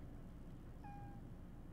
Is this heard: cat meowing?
yes